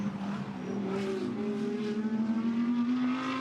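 GT2 race cars scream past at the Misano circuit during a late-race lap, a loud sustained engine note rising in pitch as the cars accelerate, with a hint of tyre noise and no voices.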